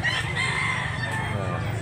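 A rooster crows at a busy open-air rooster market in Mantalungon, Barili, Cebu, one drawn-out call rising over a murmur of nearby voices.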